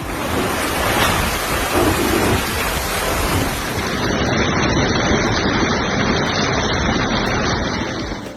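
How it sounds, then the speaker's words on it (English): Heavy rain pours down in a violent thunderstorm in Saudi Arabia, a dense steady roar with deep rumbling thunder underneath, loud and continuous throughout, with no voices. "The rains began to fall heavily in the afternoon"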